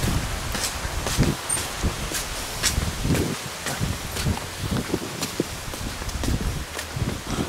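Strong wind gusting through leaves outdoors, irregular bursts of rustling and buffeting at moderate loudness, with scattered thumps and no clear talking.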